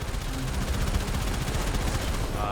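Railjack ship gunners opening fire in the space game Warframe, a dense, continuous crackle of rapid gunfire bursts at moderate volume with no speech.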